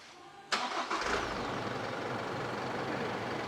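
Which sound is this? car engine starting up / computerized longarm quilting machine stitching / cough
car engine starting up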